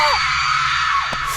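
A woman in an animated Hindi horror story lets out a loud, sustained scream as she flees toward a cave entrance, her voice holding steady before breaking off near the end.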